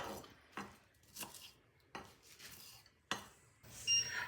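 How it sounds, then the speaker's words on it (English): A knife chops onions on a board for a ragu in a home kitchen, giving a handful of separate, fairly quiet knocks spaced about a second apart, with light clinks of utensils at the end. "And Hannah chops more onions for the ragu."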